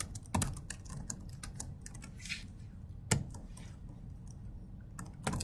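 Code being typed on a computer keyboard: quick, close, irregular key clicks with a few heavier keystrokes, quiet and without speech.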